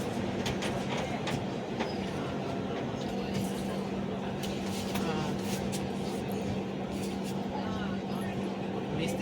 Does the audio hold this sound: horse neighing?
no